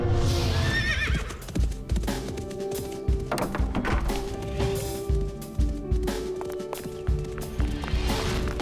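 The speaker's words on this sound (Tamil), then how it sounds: "இந்த குதிரை பொறுமையா தான் நடக்கும்" A cartoon horse whinnies loudly at the start, then its hooves clip-clop in a steady rhythm over a background music bed, with no talking.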